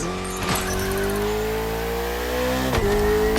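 A Ferrari 488 engine in The Crew Motorfest racing game revs loudly with rising pitch, shifts near the end and keeps climbing, close and continuous.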